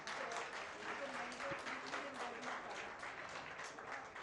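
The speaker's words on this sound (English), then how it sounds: "a round of applause for our cartoon characters" Audience applause at a live nutrition celebration event honoring performers in cartoon character costumes, a steady wash of clapping lasting several seconds at moderate distance, with faint voices murmuring underneath.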